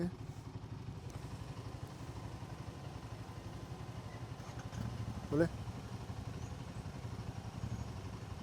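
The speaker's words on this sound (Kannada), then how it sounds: "ಎಕ್ಸಾಸ್ಟ್ ಮಾತ್ರ ಸ್ನೇಹಿತರೆ ಕ್ರೇಜಿ ಆಗಿದೆ ಕೇಳಿಸ್ಕೊಳ್ಳಿ" A 650 motorcycle exhaust idles with a steady, low, throbbing rumble, close and continuous, rising briefly in a short burst near the end.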